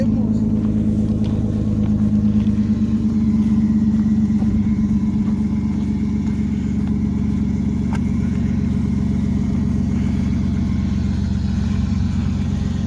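An automatic Nissan 240SX S13 idles loudly and steadily nearby, its engine droning evenly throughout with a brief rise around the middle, while people talk over it.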